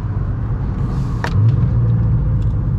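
Car running on fuel with octane additive accelerating hard, a loud, steady low engine rumble heard up close from inside, with a brief click partway through.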